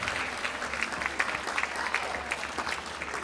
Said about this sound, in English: Let's give them a big round of applause, ladies and gentlemen.